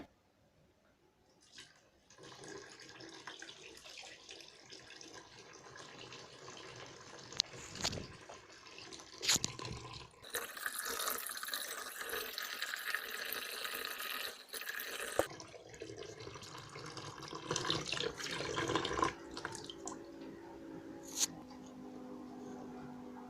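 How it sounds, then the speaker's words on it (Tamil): Water draining from a water tank in a water level controller setup: a steady rush of running water with splashes and louder surges, close by and without talk. "இப்போ வந்து தண்ணி எடுத்துடலாம் வாட்டர் டேங்க்லேருந்து"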